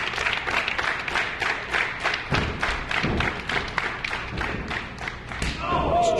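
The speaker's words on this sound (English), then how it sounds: "Nice chop there, almost a thud that you hear with that chop instead of that traditional slap." In a professional wrestling match, repeated heavy thuds and slaps of chops and bodies hitting the mat ring out over crowd noise and applause.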